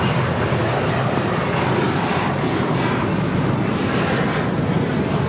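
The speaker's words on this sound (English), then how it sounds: "a 34-year-old MD-11 freighter converted, delivered to American in" Converted MD-11 freighter, delivered to American in 1991, arriving at LAX with a loud, broad jet engine roar that fills the whole stretch without letup.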